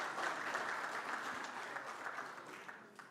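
Audience applause at a competition as a jury member is invited onto the stage: dense, steady clapping from a crowd, fairly close and even, tapering slightly toward the end.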